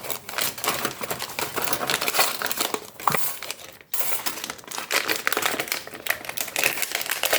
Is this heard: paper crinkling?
yes